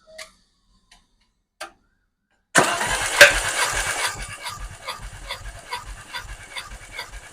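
After a few faint ticks, an engine cranks over for a cylinder compression test, with a rapid, rhythmic chugging of the starter that runs on steadily for several seconds.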